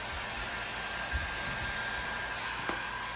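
A heat gun blows steadily while warming vinyl tint laid over a 1993-2002 Camaro or Firebird tail light, a constant airy roar with a couple of faint knocks and no talking.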